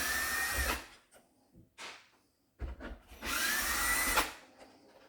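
A powered screwdriver backs screws out of a Roborock robot vacuum's housing, from spots hidden under plastic caps. Two long, loud whirring runs frame a few short bursts, all close up.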